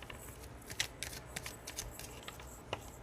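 Tarot cards being shuffled by hand, a steady run of crisp papery riffles and soft flicks close up, with no talking.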